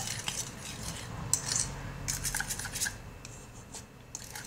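Pancake batter being stirred in a bowl, with a steady scraping and clinking of utensil against the dish, close and fairly quiet, no talking.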